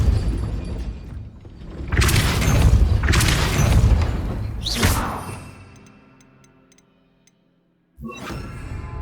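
Depulso force spell cast in the Hogwarts Legacy video game, heard as several loud booming whooshes with crashing impacts, one after another, then a fading tail, near silence and a final burst.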